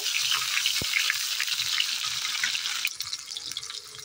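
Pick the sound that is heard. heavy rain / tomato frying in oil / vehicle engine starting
tomato frying in oil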